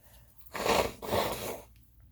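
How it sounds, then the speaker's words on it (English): Two loud, breathy nose blows in quick succession, close up, with quiet before and after. "I need to blow my nose again."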